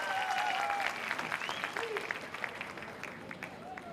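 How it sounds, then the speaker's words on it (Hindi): Audience applause at a club mentor recognition event, loud dense clapping that gradually thins out, with a voice briefly heard over it. "एक बार फिर जोरदार तालियां हो जाए for the mentor and all the cap achievers."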